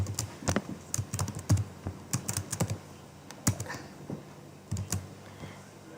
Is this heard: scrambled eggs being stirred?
no